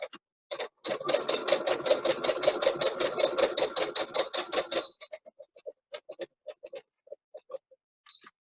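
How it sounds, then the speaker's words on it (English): A sewing machine runs steadily for about four seconds, stitching satin fabric for a bonnet from one end to the other, then stops, leaving a few short, faint clicks and taps. "So just gonna sew from one end."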